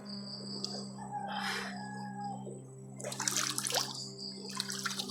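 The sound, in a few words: water splashing while bathing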